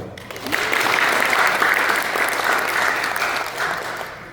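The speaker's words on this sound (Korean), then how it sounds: "그동안의 노고에 힘찬 박수 보내주시기 바랍니다" Audience applause at the inauguration ceremony of the Anyang city tennis association, honouring the executive board: a steady, dense wash of clapping that swells in and holds loud and even for several seconds before easing slightly.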